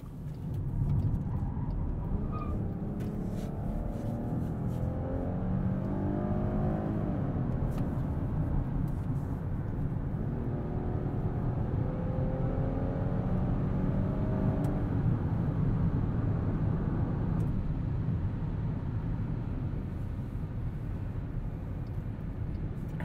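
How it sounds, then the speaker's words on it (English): A 2020 Chrysler Pacifica Limited minivan accelerates up a highway on-ramp, heard from inside as a steady low engine and road rumble with a gently rising drone, sustained throughout with no talking. "Let's get up on the highway here, hustle it around this on-ramp."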